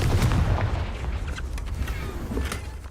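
A Confringo fire curse in the Hogwarts Legacy video game goes off as a loud, rumbling explosive burst with booming low-end weight, followed by a sustained roar and scattered crackles, with no talking.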